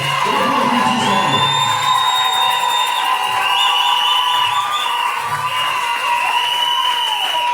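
A church congregation cheers and acclaims Jesus Christ, with loud, sustained shouting, whoops and high voices ringing continuously over the whole stretch.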